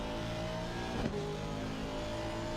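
Race car engine in a racing video game at Bathurst, a loud continuous drone that holds near one pitch with a slight lift under the throttle. Close and alone, with no talk.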